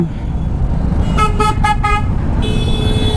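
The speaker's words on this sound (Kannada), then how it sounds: "ಇದು ಇಷ್ಟೊಂದು ಟ್ರಾಫಿಕ್ ಜಾಮ್ ಇದೆ ಇಲ್ಲಿ" Car horns honk in a Bengaluru traffic jam during a motorcycle ride, with several harmonic toots around the middle and another horn held near the end over steady road and engine rumble.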